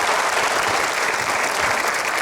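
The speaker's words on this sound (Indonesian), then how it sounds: "Kita berikan aplaus sekali lagi." Dense, steady applause from an audience fills the whole stretch at close range, with no pause or break in the clapping, following a presentation about military defence equipment.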